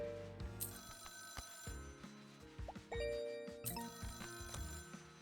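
A telephone rings in the video game Scritchy Scratchy, repeating in bursts of bright electronic trills over soft game tones, with faint clicks between rings.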